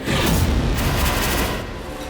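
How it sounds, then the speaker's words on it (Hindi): A loud, sustained blast rumbles with dense low-end roar and crackling debris noise, holding steady for over a second before easing off slightly, no speech. "उसके बाद होगा धमाका"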